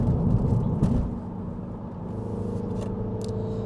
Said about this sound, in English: Very throaty 4-cylinder